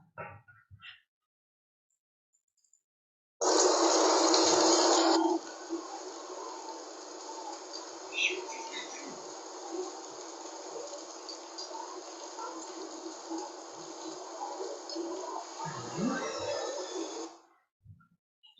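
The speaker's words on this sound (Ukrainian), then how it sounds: "мабуть, звук осіннього дощу" Steady broadband hiss of falling rain, loud at first then settling to a continuous even patter, with a brief spoken question at the start.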